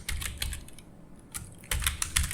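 Rapid typing on a computer keyboard while entering text in Microsoft Word, close and crisp, with bursts of keystrokes separated by a brief pause.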